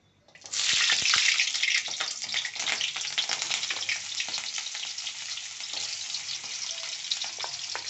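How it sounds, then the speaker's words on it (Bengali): Onions hit hot oil in a pan already holding ground bay leaf, garlic, ginger and chili spice paste, bursting into a loud sudden sizzle that settles into a steady, slightly softer crackling fry. "এটা ভাজা হয়ে গেছে, পেঁয়াজগুলো আমি ছেড়ে দেবো।"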